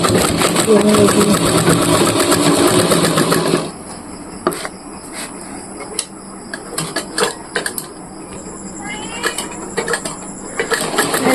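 A sewing machine stitches a bag made from a cement sack, a loud steady mechanical whir for several seconds, then stopping and giving way to scattered clicks and handling sounds.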